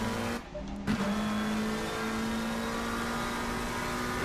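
A race car engine revs steadily in a Nürburgring sim race, a sustained droning whine with one brief dip near the start, then holding even and fairly faint throughout.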